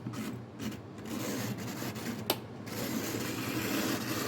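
A small electric motor in a 1964 Tyco toy train locomotive needing cleaning runs with a faint, rough grinding buzz, steady and scratchy throughout, with a couple of brief clicks.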